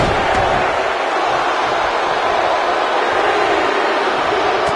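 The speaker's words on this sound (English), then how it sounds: "Listen to this crowd count the next one in." Crowd in a PS4 wrestling video game counting along to a pinfall: a dense, steady roar of arena voices that stays loud throughout without clear breaks.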